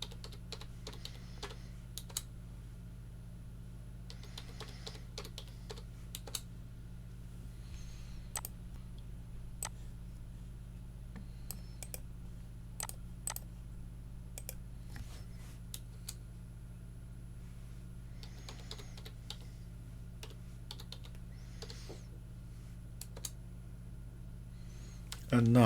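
Someone types a passphrase on a computer keyboard, faint scattered key clicks in short irregular bursts over a quiet steady hum from a computer fan.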